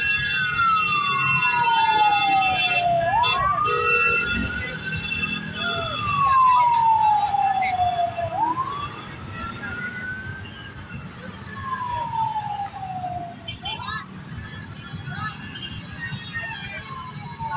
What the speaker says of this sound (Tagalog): bombero ng Antipolo